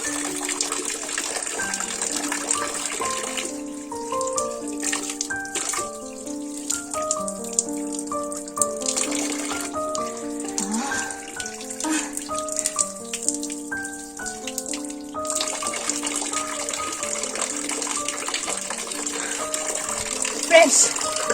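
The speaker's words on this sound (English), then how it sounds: "I assume that is the water that is coming down from the falls." Water coming down from falls splashes and trickles continuously nearby while a melodic tune plays over it, the flow steady beneath the music.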